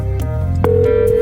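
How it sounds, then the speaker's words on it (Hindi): A telephone ringtone sounds loud and close in short repeating tonal bursts, with no voices over it. "अरियल, प्लीज मेरा फोन उठा लो।"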